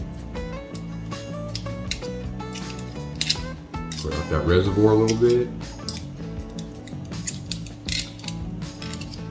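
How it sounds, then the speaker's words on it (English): Metal utensils scrape and clatter against a pan in rough, repeated strokes, with a voice speaking briefly over the kitchen noise. "Make that signature scraping sound we always seem to make around here."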